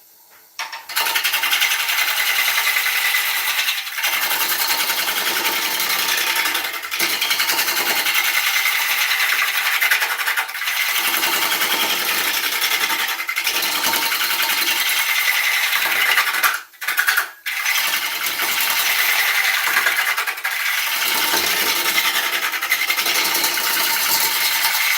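A wood lathe running at about 1,000 rpm while turning a dense hardwood blank gives a loud, continuous whirring and scraping. The sound is close and steady, with a few brief dips and one short break near the end.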